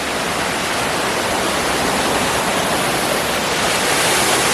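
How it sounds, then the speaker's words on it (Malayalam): A waterfall pours over and between rocks on a farm, a loud, dense, unbroken roar of rushing water filling the whole scene with no talk. "വെള്ളച്ചാട്ടത്തിൻ്റെ ഇടയിലൊക്കെ നിറച്ചിങ്ങനെ പാറകളുണ്ട്"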